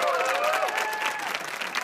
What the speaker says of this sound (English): Round of applause for Paul, please.